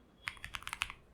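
Someone types a prompt on a computer keyboard, about eight quick, light key taps in a brief burst, close and quiet with no voices.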